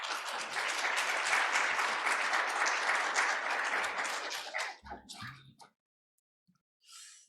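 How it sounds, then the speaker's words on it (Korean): Church congregation applauding to welcome a missionary to the pulpit: steady, dense clapping for about five seconds that thins into a few scattered claps before trailing off. "선교사님 나오실 때에 우리 따뜻한 마음으로 박수로 환영하면 좋겠습니다"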